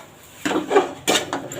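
Spoon scraping and knocking in a bowl while chicken kabab ingredients are mixed, several loud close strokes in quick succession.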